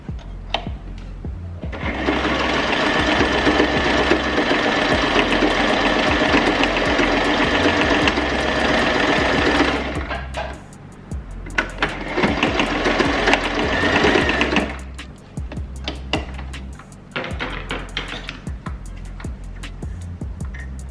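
Sewing machine stitching a wig band, running in long continuous bursts with brief pauses between them, mechanical whir steady and close with a rhythmic needle chatter.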